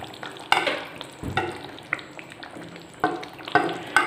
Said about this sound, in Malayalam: ആ മുട്ടയും കൂടി നമുക്കിതിലേക്ക് ആഡ് ചെയ്ത് കൊടുക്കാം.